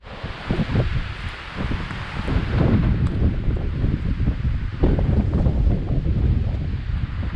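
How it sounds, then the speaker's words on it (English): Strong gusts of wind buffet the microphone on a wooded mountain hiking trail near Colorado Springs, rumbling low and loud, with rustling leaves in the background. "It's getting pretty windy."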